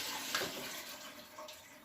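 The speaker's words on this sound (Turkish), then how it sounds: "Şöyle su katayım içine." Water runs and splashes into a bowl of olives as they are rinsed for curing black Gemlik olives, a steady near pour with faint trickling and no talk.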